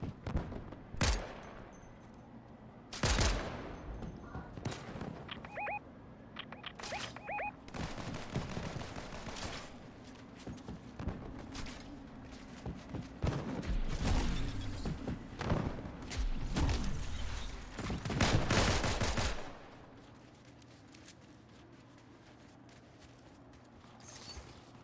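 Game pistol gunfire in a squad battle, sharp shots fired in irregular bursts with loud thuds and impacts, some shots stacking into rapid volleys, ending in quieter background noise.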